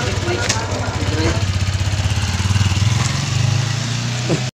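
A motorcycle engine running during a test after a tire sealer and inflator was used, a loud, close, throbbing putter with a steady pulsing rhythm that rises slightly midway.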